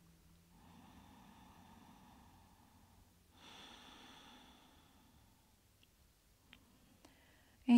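Slow, deep breaths during a yoga session, a drawn-out inhale followed by a longer exhale, close and soft in a quiet room, then a few faint clicks and a brief louder rustle at the end.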